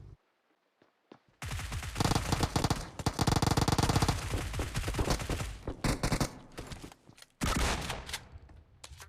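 Gunfire rings out during a drop shot in a battle royale video game: loud rapid bursts of automatic fire roll on for several seconds, pause, then return in a sharp final burst, with no voices.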